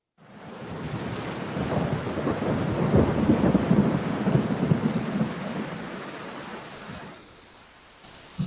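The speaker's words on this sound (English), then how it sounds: "Do you hear the thunder?" Loud, rolling thunder rumbles steadily through a rain shower, swelling and then fading toward the end, with no voices.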